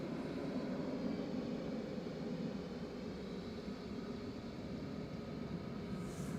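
An EasyJet airliner departs Manchester Airport with a faint, distant, steady engine rumble and whine. No voices are heard.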